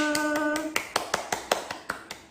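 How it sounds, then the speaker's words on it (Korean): Hands clapping in a children's group activity session, a slow, even run of about a dozen sharp claps following a sung tone, with quiet voices in the background. "나 잘했어요. 박수!"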